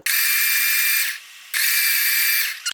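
A kitchen blender whirs loudly, blending raw mango with sugar for a sweet drink. It runs steadily, stops briefly, then starts up again before cutting off.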